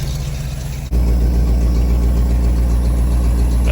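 A 1991 Ford F-250 pickup with a leaking, deteriorating exhaust pipe idles roughly and steadily with a low, rumbling pulse, close and continuous after a brief dip near the start.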